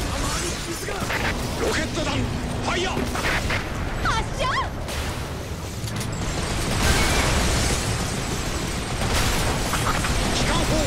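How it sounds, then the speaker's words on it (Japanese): Rocket launcher fire and explosions in the video game Earth Defense Force 5, on hard difficulty in an online mission, with bursts and booms over dense battle noise and voices chattering. "ロケット弾ファイヤー。 発射。"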